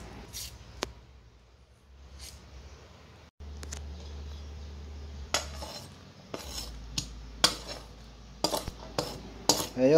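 Onion and garlic stirred in a pan with a utensil, giving scattered scraping and clinking taps against the metal over a low steady hum, with no talking.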